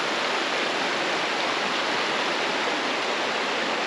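Fast river rapids rush past a kayaker on a camping trip, a loud, steady, dense hiss of churning whitewater that holds unbroken and close throughout, with no voices.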